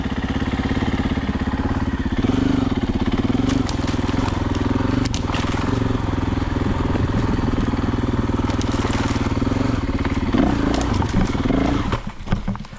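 A loud snowmobile engine drones steadily close by, rumbling and revving with crunching bursts, then sputters near the end.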